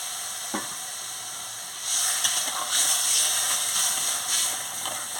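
Water is poured into a hot pan of green mango chutney, a soft hiss and sizzle that swells and carries on as a steady, moderately quiet simmer.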